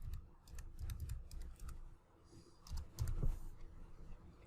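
Someone types on a computer keyboard, quiet close-up bursts of quick key clicks with a short pause in the middle, then a few more taps.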